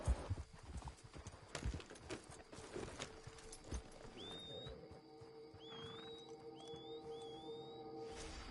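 Horse hooves clip-clop steadily in a video game set in Mexico, with a few whinny-like calls in the second half over quiet ambient background.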